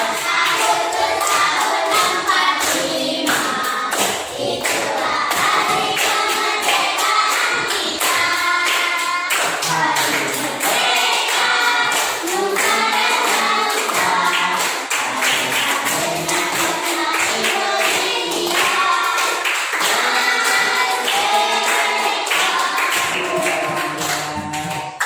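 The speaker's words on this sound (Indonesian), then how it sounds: "dengan tepuk tangan." Classroom pupils clapping together on a teacher's cue, a sustained rhythmic round of applause with children's voices shouting over it, close and loud throughout.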